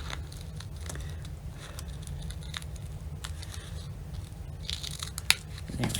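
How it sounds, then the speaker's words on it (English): Soft snipping and crisp rustles of scissors working through fabric, steady and close over a low constant hum, with a few sharper clicks near the end. "we open and close the scissors so we can get the smooth cut that we want"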